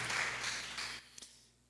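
A church congregation breaks into applause that holds steady for about a second, then thins and fades away, with a couple of stray claps at the end.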